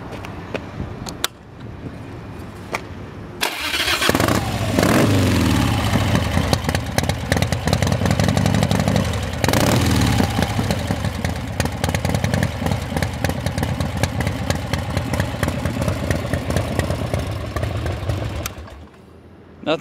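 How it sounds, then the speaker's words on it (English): A 1992 Harley-Davidson Softail Custom with a carbureted Evo engine cranks and fires up, then settles into a loud, close, lumpy idle that runs steadily for about fifteen seconds before cutting off. "Nothing like the sound of a carbureted Evo."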